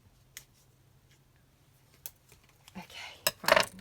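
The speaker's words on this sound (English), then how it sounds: "let's just cut those little legs off from those brads because they're quite long" Snips cut the long metal legs off paper brads: a few sharp, isolated clicks spaced across a quiet background, ending in a brief rustle and a louder double snap.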